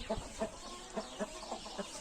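Several chickens cluck in a steady, repeated rhythm, with a rooster's voice mixed among them, fairly close and moderately loud.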